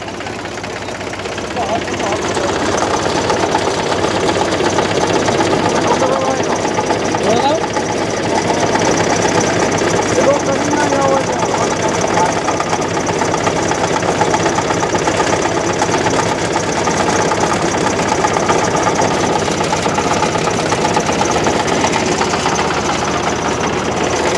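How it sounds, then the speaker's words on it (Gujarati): A tractor engine idles loudly nearby, a steady rumbling chug throughout, with faint voices mixed in. "ટ્રેક્ટર ખેંચીને લઈ જશે હવે ભાભર."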